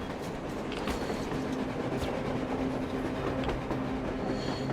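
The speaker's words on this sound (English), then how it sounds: "A train! A damn train on the surface!" A train rolls across the surface in the video game Metro Exodus, a steady, heavy rumble with rhythmic clatter and faint metallic tones, continuous and fairly close.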